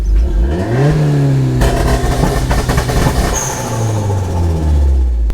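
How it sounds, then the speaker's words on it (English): Hyundai Genesis Coupe held at its two-step rev limiter, engine droning steadily close by with revs rising and bouncing, crackle and pops running through; no voices. "hold down the accelerator all the way, it'll hit the rev limiter and it'll start backfiring"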